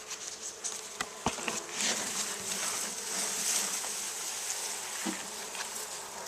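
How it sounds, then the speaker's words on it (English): Bees buzz in a swarm around a backyard hive, a dense continuous hum close by with a few sharp knocks early on. "the bees made most of their hive toward one end of it and then off to one side."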